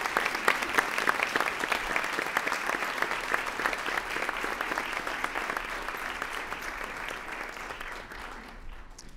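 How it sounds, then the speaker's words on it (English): Sustained, dense applause from the audience at a Board of Education meeting, loud and steady with many hands clapping together, thinning and fading out at the very end. "And one more big round of applause,"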